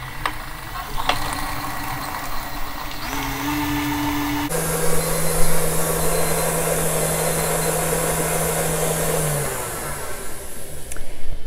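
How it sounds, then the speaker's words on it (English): An electric mixer beats eggs into a gluten-free French silk pie filling, a steady loud motor whir that shifts speed and pitch partway through and runs continuously, close up. "Beat 2 eggs in and beat it for 5 minutes"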